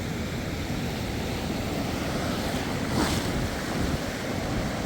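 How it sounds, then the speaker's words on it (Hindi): Sea waves roll in steadily at Chakratirth beach in Puri, Odisha, a constant broad roar of surf mixed with wind buffeting the microphone, with one slightly louder wash near the middle. "ये समुद्र का वो किनारा जिसे चक्रतीर्थ बीच के नाम से जाना जाता है"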